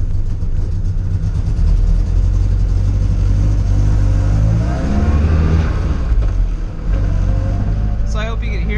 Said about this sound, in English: Kind of sounds like there's some rocks in my transmission.